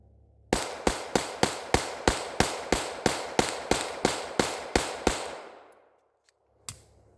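A stainless Beretta 92FS Inox pistol fires fourteen sharp, loud shots in a steady rapid rhythm, the magazine emptied in about five seconds, then a pause and one more crack, outdoors in snow.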